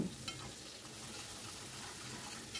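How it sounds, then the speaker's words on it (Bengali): Chopped onion frying in oil with a pinch of turmeric and chilli powder, a dense, even sizzle close by with faint stirring scrapes, quiet and steady throughout without talk. "কুচনো পেঁয়াজটাকে আমি একটু ফ্রাই করে নেব"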